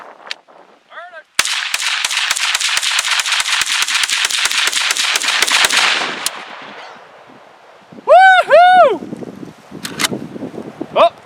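A Mini-14 rifle fires a fast string of gunshots at targets outdoors, loud cracks in rapid succession for several seconds, followed by a pause and a couple of isolated later shots, with voices and whoops around them.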